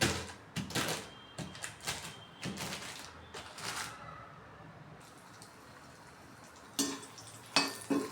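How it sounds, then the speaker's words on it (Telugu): Cashew nuts frying in leftover ghee, with soft crackling sizzle and intermittent sharp clatters of stirring, close and moderately quiet. "ఇప్పుడు ఆ మిగిలిన నెయ్యిలో జీడిపప్పు వేస్తున్నానండి"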